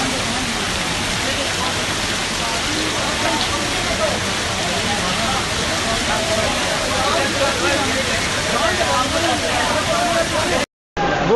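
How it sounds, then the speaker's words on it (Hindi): Flood water rushing through Raja Bazar in Rawalpindi during heavy rain, a loud, dense, continuous roar of churning water filling the whole scene, with voices talking underneath. "मोती बाजार, राजा बाजार में सैलाब आ गया हुआ है।"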